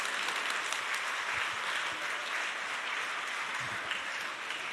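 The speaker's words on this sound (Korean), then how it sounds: "모두 큰 박수로 축하해 주세요" A congregation at a church children's Bible school report applauds in a steady, continuous round of clapping that holds even throughout.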